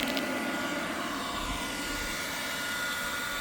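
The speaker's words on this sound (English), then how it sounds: "now we have a load, and the fans are kicking on" Inverter cooling fans run under load with steady whooshing noise, a continuous broadband hum with no change in level, running alone without voices.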